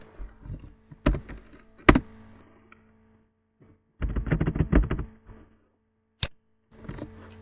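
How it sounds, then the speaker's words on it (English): Computer keyboard keys pressed in scattered clusters of sharp clicks and taps, some single strikes and some rapid runs, close and fairly loud with quiet gaps between. "You'll see that I pressed keys and nothing happened."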